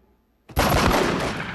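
A single pistol shot bursts out sharply after a moment of silence, loud and close, with a broad blast that rings on for about a second.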